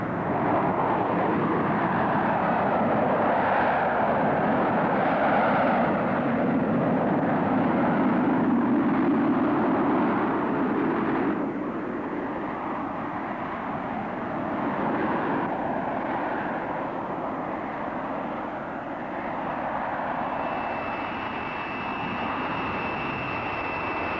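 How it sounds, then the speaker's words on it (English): A Hawker Siddeley Harrier jet aircraft flying at an air show, a loud continuous roar of jet engine noise that holds steady, then eases slightly and drones on without a break. "the Harrier can move out at Mach 1 and climb at a rate of nearly 10 miles a minute in conventional"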